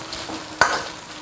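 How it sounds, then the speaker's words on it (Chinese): Pork belly stir-fries with seasonings in a hot wok, a steady close sizzle broken by two sharp spatula scrapes. "下五花肉，炒出香味过后，把这一碗小料放进去"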